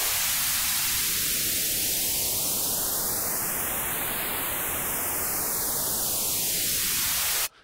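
Steady broadband noise passed through a synthesizer notch filter, its hollow gap sweeping slowly up and back down like a phaser, loud and continuous until it stops abruptly near the end.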